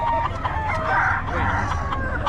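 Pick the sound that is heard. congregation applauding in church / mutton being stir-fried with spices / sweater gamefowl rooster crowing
sweater gamefowl rooster crowing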